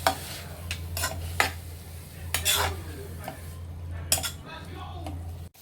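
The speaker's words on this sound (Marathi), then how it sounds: "त्याला थोडंसं आपण फिरवून घेऊया." A spoon stirs sauces into hakka noodles in a pan, giving close metallic scrapes and clinks in irregular bursts over a low kitchen hum.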